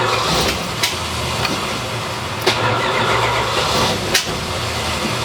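A car engine catches and keeps running at a fast idle after a long struggle to start, a steady loud rumble broken by a few sharp pops.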